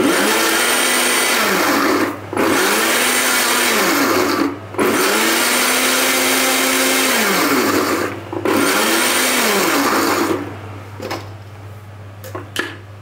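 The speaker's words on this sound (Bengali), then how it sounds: "মরিচ আর চাপা শুটকিটা ব্লেন্ডার করে নিই, বাঁশপাতা চাপা শুটকি" A kitchen blender grinds chili and bamboo-leaf pressed dried fish (shutki), running in loud steady bursts broken by brief pauses before cutting off near the end, with a low motor hum throughout.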